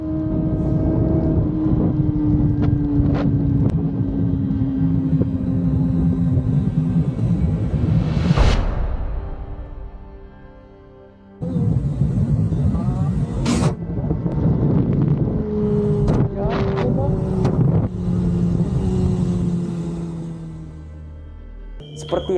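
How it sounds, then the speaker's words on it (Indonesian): A motorcycle engine rises and falls in pitch during a ride recorded from a helmet-mounted camera, with steady wind rush over the microphone and a brief drop-out midway. "Seperti yang kalian lihat pada saat KL lagi mengendarai motornya"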